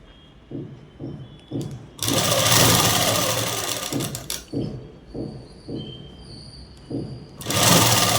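A sewing machine stitches a dress, its needle thumping in short rhythmic pulses before and after two loud sustained runs of fast whirring stitching.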